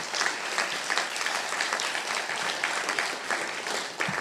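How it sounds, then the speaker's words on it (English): Audience applause for singers at an official launch ceremony in Antigua and Barbuda, a steady, dense clapping from a large crowd that continues evenly with no voices over it. "Singers, another round of applause, please."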